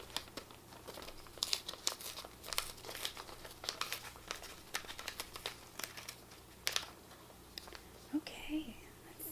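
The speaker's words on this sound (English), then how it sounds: "So here's the other envelope, and let's open it and see what's inside." A paper envelope is torn open and handled, giving steady crinkling, rustling and tearing up close with a soft voice murmuring faintly beneath.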